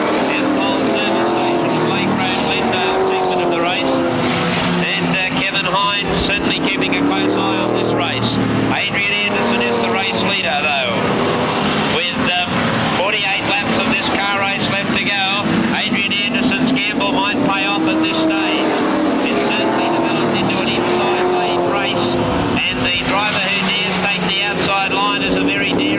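Super sedan race cars roar around the track in a 1979 150-lap Grand Prix A-main at Newcastle, a loud continuous engine drone that rises and falls as cars pass, with a commentator talking throughout.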